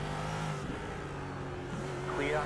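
Race car engine droning and revving steadily in iRacing, a Ford GT3 at the Indianapolis road course, with a rising whine of another car drawing alongside near the end.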